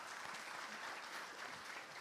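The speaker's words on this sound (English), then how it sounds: "I think that this answer does deserve an applause, though." Audience applause at a Q&A session, a dense, even patter of clapping hands that stays faint and distant from start to finish.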